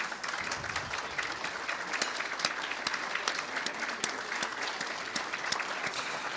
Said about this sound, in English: If you guys could just stand up, I'll give you a little round of applause.